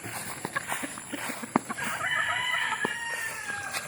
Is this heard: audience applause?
no